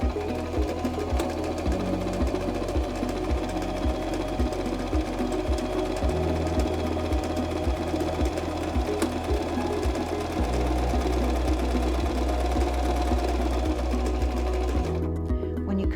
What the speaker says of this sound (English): Step on the foot control to start sewing.